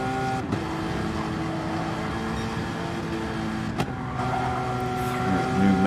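A Porsche GT3 race car in a racing video game at Le Mans, its engine droning steadily and loudly, holding a sustained tone with slight pitch shifts as it approaches and passes.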